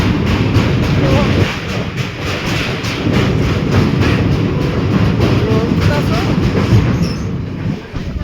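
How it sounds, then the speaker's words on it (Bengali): A passenger train crossing a railway bridge between New Cooch Behar and New Jalpaiguri, a loud continuous rumble with rhythmic clattering wheel beats and a metallic ring throughout, close and steady. "ব্রিজের উপর দিয়ে ট্রেন গেলে কিন্তু অদ্ভুত একটা সাউন্ড হয়"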